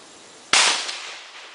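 A single sharp gunshot is fired at a water heater, a loud close crack with a noisy, slowly fading tail afterward, alone with no talk.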